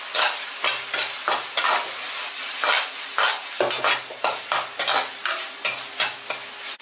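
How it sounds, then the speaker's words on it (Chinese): Scallion, ginger and garlic stir-fried over medium heat in a wok, a steady oily sizzle broken by a dozen or so rhythmic scraping strokes of the spatula, close and fairly loud. "接着我们下入葱姜蒜，开中火给它煸香"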